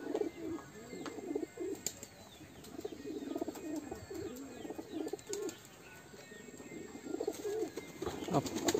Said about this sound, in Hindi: तो अब मिर्ची के बाद मैंने इनको दाना डाला है, अब ये दाना खा रहे हैं सारे।